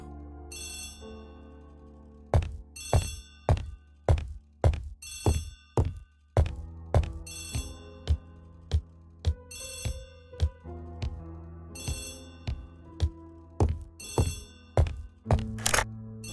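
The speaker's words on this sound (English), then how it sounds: "Poirot, the telephone." An old-fashioned telephone bell rings in repeated bursts, loud and close, each ring a short jangling trill separated by pauses, with a few dull knocks in between and no voices.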